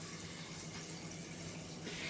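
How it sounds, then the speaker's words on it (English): A jug of water poured into a pan of dry pasta, a steady close gushing and splashing of liquid that continues evenly throughout without speech. "And then I'm just going to pour in a jug of water."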